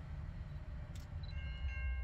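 BC Rail 'Bluebird' train passing a grain elevator near Dugald, Manitoba under a 10 mph speed restriction, heard as a low, steady rolling rumble at moderate distance with faint high squeals.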